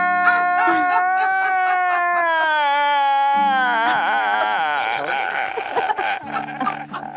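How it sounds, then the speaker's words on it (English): A comic crying sound effect of nerds wailing, broadcast over a radio show, heard as warbling, sobbing howls with a quavering pitch that rise, wobble and break up over several seconds, with no talk over it. "That's the sound of nerds everywhere crying"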